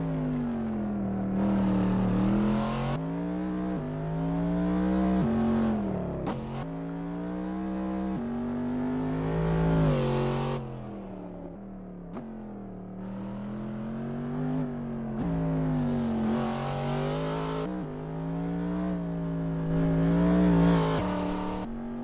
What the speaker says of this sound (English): enjoy the sights and sound of this C8 here for a little bit here on the Dragon